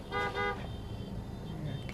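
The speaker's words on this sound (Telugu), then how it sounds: "వెనక నుంచి హార్న్ కొట్టారు గమనించారా" Two short car horn toots in quick succession from a car behind at a traffic signal, fairly close, followed by steady road and engine noise.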